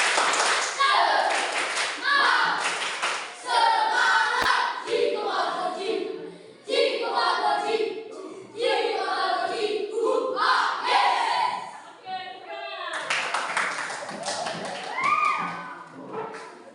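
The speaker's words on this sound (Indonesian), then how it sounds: "Tepuk semangat." A school class performs a rhythmic spirit-clapping routine, with bursts of sharp group claps in short patterned runs, loud and close. Children's voices chant and shout along between and over the clapping.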